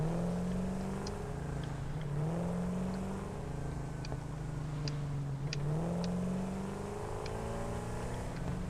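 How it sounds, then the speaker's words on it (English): A turbocharged vehicle in the video game Satisfactory: a steady engine hum with a high turbo whine rising and falling through repeated gear shifts, with faint clicks over it, fairly quiet throughout. "Is that whine of a turbocharger I hear?"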